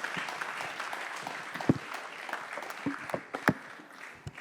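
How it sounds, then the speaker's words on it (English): An audience applauds a conference panel, a sustained patter of many hands clapping in a hall that thins toward the end, with a few louder individual claps standing out. "So give them a big applause."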